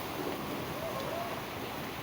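Heavy first monsoon rain falling on plants and a coconut tree, a dense, steady, close roar of downpour that holds at an even level throughout.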